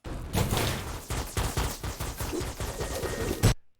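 A dense volley of off-screen gunfire in a film sound mix, rapid overlapping shots bursting in a steady rattle throughout, loud and sustained, ending in a final heavier thump.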